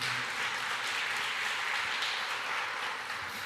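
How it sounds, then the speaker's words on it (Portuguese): A church congregation applauding together, a steady, fairly faint wash of many hands clapping that holds throughout without a break, with no speech. "Dê mais um forte aplauso ao Senhor."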